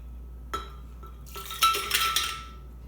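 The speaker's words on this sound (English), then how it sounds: "Now it's time to pour the ice cubes" Ice cubes poured into a blender jar for a chocolate caramel milkshake, giving a few sharp clinks followed by a dense, clattering rattle of cubes tumbling against glass, fairly close and with no talk.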